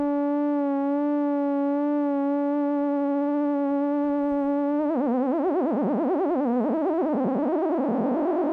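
Modular analog synthesizer set to sine waves for sci-fi tones: a pure sustained steady tone holds for several seconds, then breaks into warbling, wobbling pitch-modulated sweeps that rise and fall, loud and alone.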